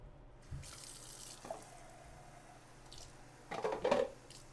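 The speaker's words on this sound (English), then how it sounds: "I'll just go right over the sink with our can of black beans and then rinse that" Canned black beans rinsed under a running kitchen sink tap, water splashing and gurgling steadily with a louder surge of flow near the end, close and clear with no talk.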